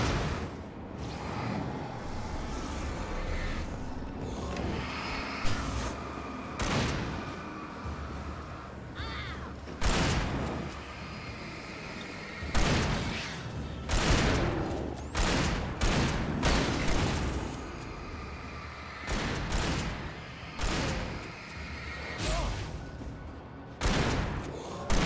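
Gunfire in the video game Alan Wake: loud, sharp shots ring out in irregular bursts and single cracks, with game ambience between them.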